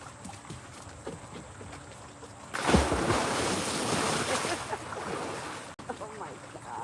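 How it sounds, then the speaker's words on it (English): A rush of water surges through a pool as a wave breaks, a sudden loud swell of splashing that follows quieter background sounds and then settles into a steady wash. "The rush of water. Huh? Look at the wave."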